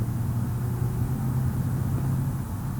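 A car engine in BeamNG.drive drones with a steady low rumble and hum, changing little across the moment of a downshift.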